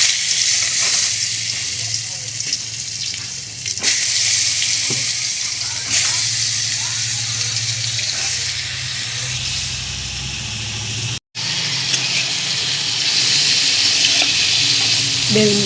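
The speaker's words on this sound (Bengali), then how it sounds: "বেগুনগুলোকে ভালো করে ভেজে নেব।" Eggplant slices rubbed with salt and turmeric fry in hot oil in a wok, giving a loud, continuous sizzle and hiss with light stirring scrapes and one brief dropout.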